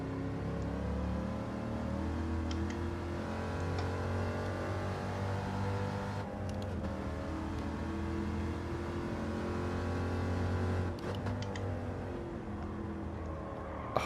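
Racing cars in Gran Turismo 7, a Corvette against a Ford Escort Cosworth, drone with a continuous loud engine note that rises and falls through gear changes, with brief tire squeals around corners and no talking.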